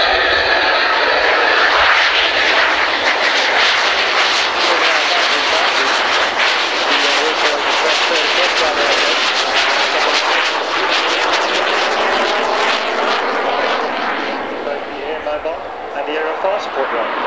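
Twin General Electric J85 jet engines on a Cessna A-37B Dragonfly light attack aircraft roar loudly and steadily on the tarmac, a dense broadband rush with a high whine that holds for the whole stretch and eases slightly near the end.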